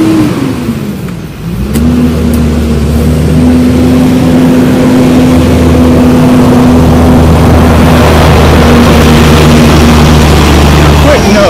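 A semi-tractor trailer box truck drives past on a neighborhood street, very loud and close, its engine dropping in pitch as it nears, then a steady heavy droning rumble that holds strongly to the end.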